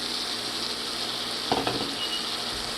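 Celery sautéing in melted butter in a pan, a steady, bright sizzle that holds throughout, with a brief clatter of stirring or a utensil midway, close by and with no voices.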